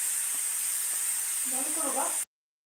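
Steam hisses loudly and steadily from a pressure cooker, a voice briefly murmuring beneath it near the end before everything cuts off abruptly.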